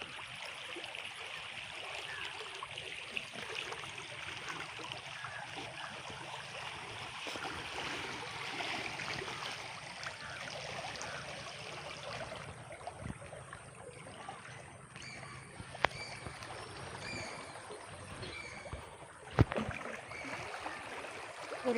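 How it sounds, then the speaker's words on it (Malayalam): A rain-swollen river runs fast with swirling eddies near where a snake boat is moored, producing a steady, moderately faint rushing wash with a few soft knocks and splashes. "ഒഴുക്ക് കൂടുതലാണ്, നല്ലതായിട്ട് ഒഴുകുന്നുണ്ട് വെള്ളം"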